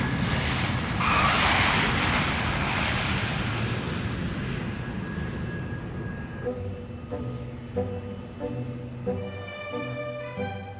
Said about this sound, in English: The first arrival of the day is already making its approach